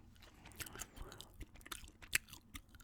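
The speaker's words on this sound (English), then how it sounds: "I can kind of chew the gum, take the gum out" Gum being chewed close to the mic in a quiet room, with soft wet smacking, clicks and crunchy bites repeating in an uneven rhythm over about three seconds and one sharper snap near the end.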